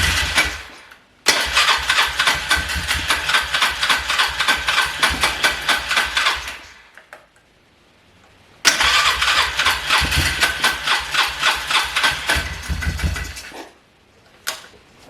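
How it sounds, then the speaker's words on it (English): A Polaris Trail Boss 330 ATV engine cranks and fires, runs loudly at a pulsing idle for several seconds, cuts out, then starts again and idles before stopping, with no talk. "I'm gonna start it up and let it idle and make sure that nothing's leaking."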